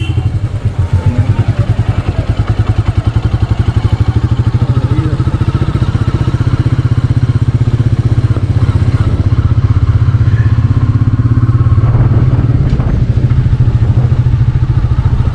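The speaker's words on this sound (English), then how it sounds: "this is the actual scenario where we usually ride the motorcycle." A Royal Enfield Meteor 350 touring motorcycle riding on the road: a loud, close, steady single-cylinder thump with a rapid even pulse and some rattling clatter, holding throughout without a break.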